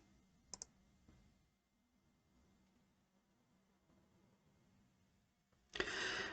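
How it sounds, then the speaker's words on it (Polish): Two quick mouse clicks on a save-and-send button in a web form, close and crisp over a quiet room hum, followed by a longer burst of broadband noise near the end. "po uzupełnieniu tego formularzu klikam zapisz i wyślij"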